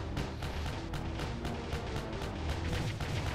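Rapid, steady bursts of shooting from a Kappa scope weapon in a Touhou-style video game, a dense repeating rattle held at even loudness throughout with no talking.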